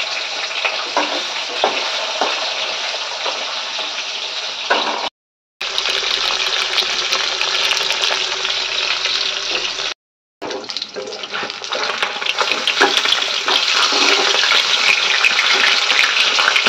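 Fish sizzling in hot oil in a home kitchen pan, a loud, steady crackling hiss that runs on without pause, broken by two brief moments of silence.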